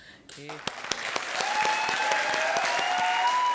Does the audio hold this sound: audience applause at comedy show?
yes